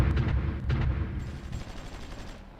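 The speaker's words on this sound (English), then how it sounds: "That's anti-tank guns." Anti-tank guns fire in the strategy game Supreme Ruler Ultimate, a quick cluster of sharp booming shots that rattle close together, then tail off into a fading rumble.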